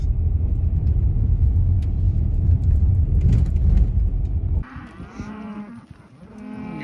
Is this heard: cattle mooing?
yes